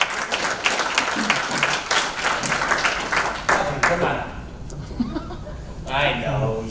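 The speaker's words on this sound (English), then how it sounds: "let's have a round of applause" Audience applause at a live real estate investor meetup, a loud burst of clapping with some chuckles that thins out midway, then voices talking and a brief flare of clapping near the end.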